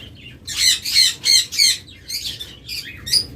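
Lovebirds and other pet birds at a seller's shop squawk in loud, harsh bursts close by, a quick run of shrill calls followed by a few shorter chirps.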